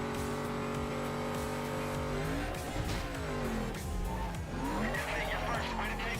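A Lexus LFA engine in the Need for Speed Carbon racing game, heard as a loud, smooth high-revving note that rises and falls through gear changes, with tire squeal and other race cars mixed in.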